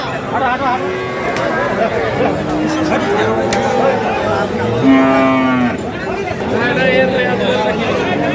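Cattle low and moo amid a noisy crowd at a cattle market, with people chattering and murmuring throughout a busy outdoor scene.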